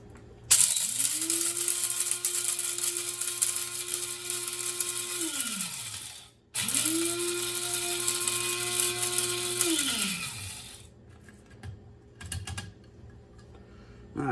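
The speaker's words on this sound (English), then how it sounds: "I'm going to take the coriander, it's about a teaspoon each, and the cloves, and I'm going to fresh grind them" Peppercorns, coriander seeds and cloves, about a teaspoon each, fresh-ground in an electric grinder. Two long, loud whirring bursts of about five seconds each, separated by a short pause and followed by a few brief pulses.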